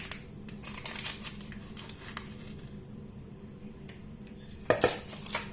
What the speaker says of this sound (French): Voilà, je mélange tout ça.